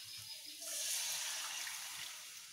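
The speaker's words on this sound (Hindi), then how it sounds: "अब इसमें मैं पानी डालूंगी" A steady rush of water pouring into a pan of fried masala for paneer kofta curry, a broad hissing splash that swells and holds for a couple of seconds.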